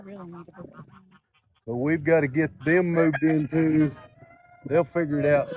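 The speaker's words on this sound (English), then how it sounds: "That's the first rooster crowed in that pen." A rooster crows in a pen of hens, heard among clucking fowl while someone talks over it close by.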